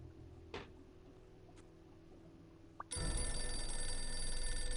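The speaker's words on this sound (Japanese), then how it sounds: "お、電話かかってきた。" Telephone in the video game Blacksad: Under the Skin starts ringing after a few quiet clicks, a loud continuous bell-like ring that takes over the last two seconds, with no talk.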